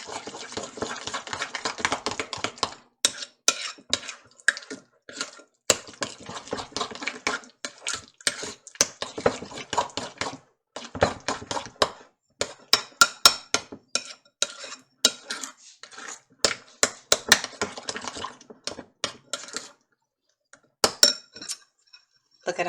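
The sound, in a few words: mixing pepper jam with fresh peppers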